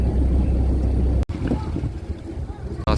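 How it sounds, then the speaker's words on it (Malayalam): A tour boat's engine in Kochi runs as the boat reverses, a low, steady hum with broadband wind and water noise that briefly cuts out, then returns rougher and busier. "നമ്മുടെ എൻജിൻ സ്റ്റാർട്ട് ചെയ്തു."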